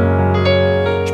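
A Nord Stage 3 stage keyboard plays its Silver piano sound: bright sampled piano chords ring out close and loud, with a few fresh note attacks over sustained harmonics and no voices.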